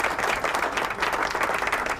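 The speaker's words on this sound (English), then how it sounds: "applause." Continuous applause from a crowd, dense overlapping claps at an even level throughout the short stretch, with no voices over it.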